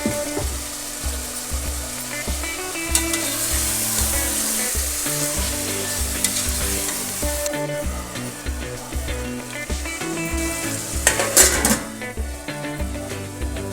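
Ingredients for egg biryani sauté with salt in a hot pan, a steady close sizzle with stirring clatter and scraping, plus a rhythmic low mechanical thumping running underneath and a brief louder burst near the end.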